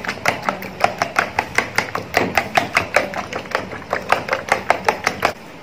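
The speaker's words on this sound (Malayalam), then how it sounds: "എരിവ് വേണമെന്ന് അധികം വേണ്ട ആൾക്കാർക്ക് കുരുമുളക് പൊടിയും കൂടി ആഡ് ചെയ്തിട്ട് നന്നായിട്ടൊന്ന് മിക്സ് ചെയ്യാം." A utensil rapidly beats an egg mixture with pepper powder in a bowl for a Chinese omelette, making brisk, even tapping strokes about four per second, close and clear.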